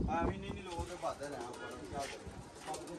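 Pigeons coo softly over a voice talking, with outdoor background noise.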